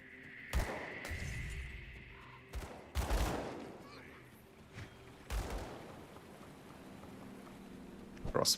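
Gunfire from a gunslinger's skill in the game Aether, a few loud sharp shots fired in separate bursts about two to three seconds apart over steady game background.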